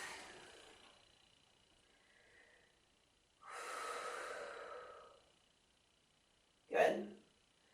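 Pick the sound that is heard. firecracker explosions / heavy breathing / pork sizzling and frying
heavy breathing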